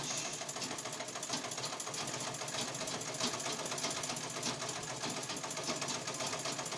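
A sewing machine cross stitches a dress neckline with a continuous, even, rapid mechanical chatter that runs throughout at moderate distance with no pauses.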